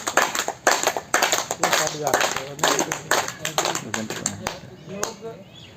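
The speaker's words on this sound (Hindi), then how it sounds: "इनके लिए जोर से एक बार ताली बजा लीजिए" People at a yoga session clap for a participant, a quick run of sharp claps of moderate loudness that thins out toward the end, with a voice talking over it throughout.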